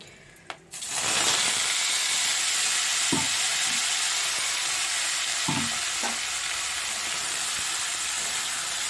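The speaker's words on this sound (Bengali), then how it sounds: "তেল গরম হয়ে গেছে, উচ্ছে আলু ভাজা" Sliced bitter gourd and potato drop into hot oil in a new kadai and hiss into a loud, steady sizzle that lasts throughout, with a few sharp clinks from stirring partway through and no talking.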